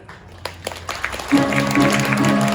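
Wedding guests applaud as the groom enters the hall at a riverside wedding venue, claps swelling from scattered to a dense, steady ovation backed by a sustained musical tone.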